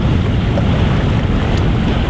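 A single-handed sailboat heels under sail on open water, with a loud, steady roar of wind buffeting the microphone and rushing water beneath.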